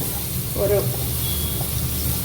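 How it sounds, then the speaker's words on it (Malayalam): Quail eggs roasting in a pan for a Kerala-style egg curry, a steady close sizzle and hiss with a brief scrape of stirring partway through. "അപ്പോൾ അത് ഇതിനകത്തൊന്നിട്ട് ഒന്ന് റോസ്റ്റ് ചെയ്തെടുക്കുക."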